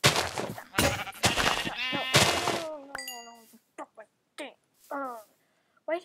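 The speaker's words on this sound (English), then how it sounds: "Oh, that's a sheep." A sheep in the Minecraft video game bleats several times in short wavering calls after a stretch of talking, the bleats clear and close in the game audio.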